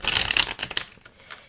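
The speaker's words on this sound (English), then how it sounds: "So we're gonna get right into shuffling." Tarot cards being shuffled up close: a quick run of crisp riffling and flapping card noise that falls to a few soft taps and rustles near the end.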